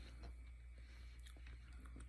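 Chewing crunchy homemade sauerkraut close to the mouth, a few soft crunching bites scattered over a steady low background hum, with no talking.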